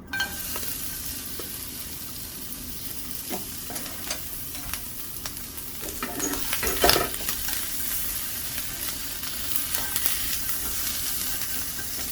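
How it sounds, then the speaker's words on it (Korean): Onions stir-frying in a little hot oil in a frying pan for soy-sauce pork bulgogi, a steady loud sizzle with repeated scraping stir strokes and a brief busier burst midway, no talking. "양파 먼저 볶아보도록 할게요."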